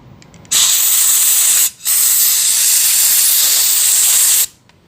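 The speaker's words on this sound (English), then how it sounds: "spray some carburetor cleaner, spray some compressed air through the holes" Compressed air and carburetor cleaner blast through the jets of a nearly new Toro lawn mower carburetor, a loud, close hiss in two long bursts with a brief gap between them.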